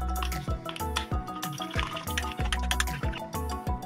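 Water is added to two spoons of wheat flour and stirred into a paste, making close, wet, rhythmic clicking and squelching at a quick, steady pace.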